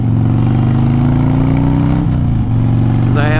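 A Harley-Davidson motorcycle engine rumbles loud and close while riding, with a steady throaty drone that briefly dips and shifts in pitch partway through before settling back into its pulse.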